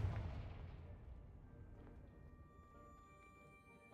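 A Confringo blasting spell explodes in Hogwarts Legacy, a single deep boom at the start that rolls off into a long fading rumble, with no talking.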